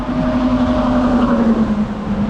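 Steady roar of traffic from Interstate 70 heard from the nearby Western Rail Trail, a constant low rumble with a sustained tonal hum and no voices.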